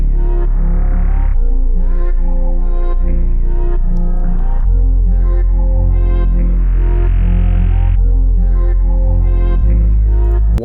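A bass one-shot playing a melodic bass line, deep sustained notes shifting pitch every second or two, loud and continuous with rich harmonics and no voice.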